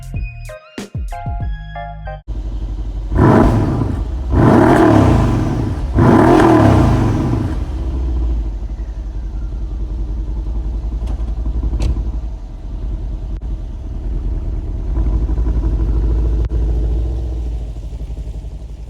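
A 2013 Mercedes E63 AMG sedan engine starts and revs in loud bursts, then settles into a deep, steady idle rumble close by, with no one speaking.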